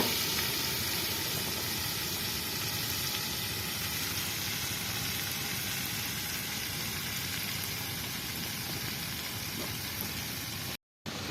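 Ginger and garlic frying in a pan, a steady close sizzle with crackling oil that runs unbroken until a brief cut near the end.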